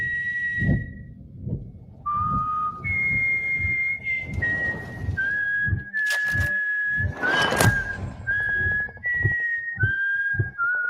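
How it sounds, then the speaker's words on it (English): A film trailer carries a slow, clear whistled rendition of America the Beautiful, with sustained, gliding notes held over deep, booming percussive hits and low rumbles. "Somebody whistling America the Beautiful."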